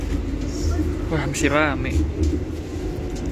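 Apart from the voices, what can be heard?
inside a moving train dining car, stainless steel generation 2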